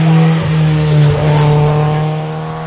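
Engine note of a 1300 cc VW Polo 6N racing a slalom course, a loud, steady drone with strong harmonic tones that dip briefly as revs shift, heard close and alone without talk.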